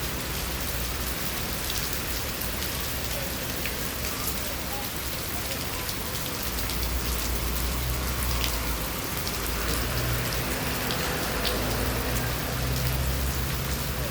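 Heavy rain pours down on the streets of Sham Shui Po, Hong Kong, a dense, constant hiss of drops striking surfaces, steady and loud from start to finish.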